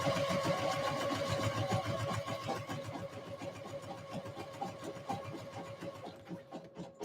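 A serger sewing machine running as it finishes the raw edges of fabric ruffles, a fast steady whirring stitch rhythm that slows and turns uneven toward the end, no talking.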